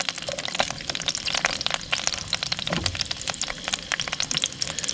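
Small pieces of beetroot fry in hot oil in a pan with a dense, steady crackle and sizzle, spattered with sharp little pops, close up and continuous.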